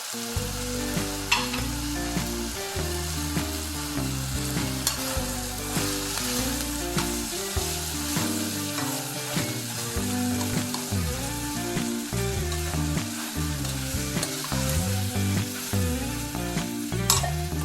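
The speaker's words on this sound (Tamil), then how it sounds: "இந்த வெங்காயத்தில் தேவையான மிளகாத்தூள் குழம்பு மிளகாத்தூள் போடுறேன்" Chicken gravy masala with onion and chili powder sizzling in a pan, a steady loud frying hiss with stirring and clinks running throughout, close up and without speech.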